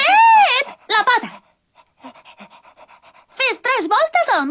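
A hypnotized cartoon girl pants rhythmically like a dog, quick breathy huffs over about a second, set between animated voiced yelps and vocalizations at close range; the voice is a person imitating a dog.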